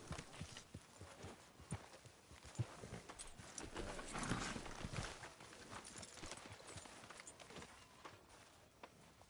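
Hooves clip-clop steadily as a horse walks in the video game Red Dead Redemption 2, a continuous rhythmic clatter over a busy background with no talking.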